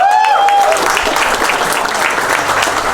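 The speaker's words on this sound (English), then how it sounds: "the show up definitely deserves an applause" Audience applauding after a talk, a loud, dense wash of clapping that swells at once and carries on steadily, with a brief whistle at the start.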